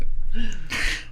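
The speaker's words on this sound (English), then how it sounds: "I like when we catch him mid-cough." A single short, harsh cough or throat-clearing burst from a character in Riverdale season 3, episode 8, close and fairly loud, over in about a second.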